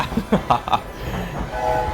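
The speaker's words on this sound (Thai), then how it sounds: "เพราะว่ารถไฟมา" A train in the video game Hogwarts Legacy arrives with a rumbling rail sound and a few rhythmic clanks, then a sustained horn tone rises near the end, with some speech around it.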